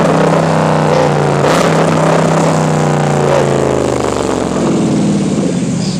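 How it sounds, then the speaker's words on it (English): A Jeep Grand Cherokee engine revs hard and loud inside the cabin, a sustained high-rpm roar with pitch rising and falling as the throttle is held, then easing slightly near the end. "Rev it all the way up"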